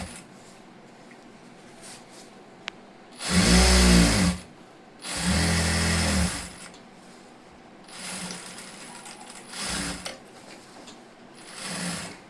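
A sewing machine runs a double stitch along a saree petticoat seam in two loud, close bursts of rapid whirring, followed by a few softer, shorter runs with quiet pauses between.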